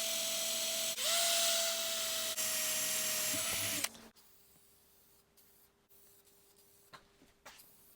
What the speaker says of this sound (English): We're going to drill out for the tuners.